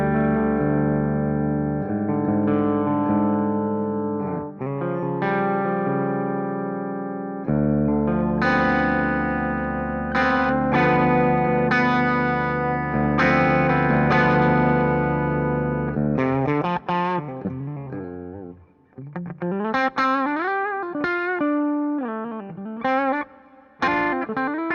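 An electric guitar with a bridge humbucker, on an Aristides 060 non-wood guitar, plays sustained chords and melodic lines through heavy distortion and effects, ringing with long sustain and reverb.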